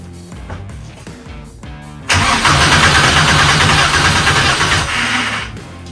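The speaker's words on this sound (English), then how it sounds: "So I'm gonna hook the battery up and let's see if it'll fire up." A VW MK2's VR6 engine cranks and catches about two seconds in, then settles into a loud, steady idle that holds until the end.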